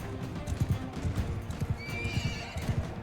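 A horse in the medieval combat game Mount & Blade II Bannerlord gallops with a rapid, rhythmic clatter of hooves, and a high neigh rises partway through, all over a steady background rumble.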